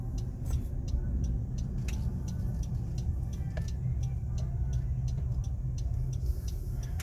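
A car drives slowly into a busy car park, its engine a steady low rumble close by, with a faint rhythmic ticking, like an indicator, running over it throughout.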